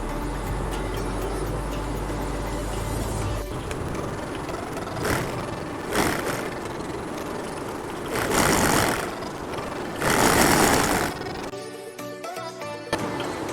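A sewing machine stitches a simple trouser, running with a continuous mechanical whir and hum, broken by a few louder, denser bursts of stitching near the end.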